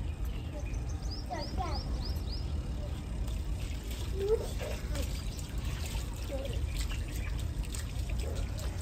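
Water trickles and pours onto garden soil around plants in a steady, gentle flow, heard faintly beneath voices and birdsong as people talk nearby.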